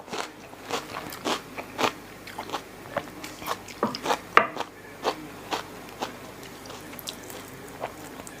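Crunchy bites and chewing of grilled frog with fresh bitter gourd and sticky rice with fermented fish dip, a steady run of close, crisp crunches spaced about every half second with no talking.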